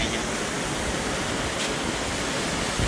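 Surf rolls in at the Magra surfing spot in Real, Quezon, as a dense, steady wash of breaking waves that stays loud and even with no pauses.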